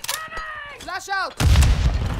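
A flashbang grenade bursts in Call of Duty Modern Warfare 2, a loud broadband blast with a ringing wash that follows brief radio-style voice callouts.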